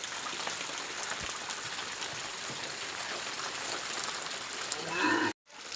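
Cattle lowing in a cow shed in a Uttarakhand mountain village over a steady patter of rain, with a brief dropout near the end.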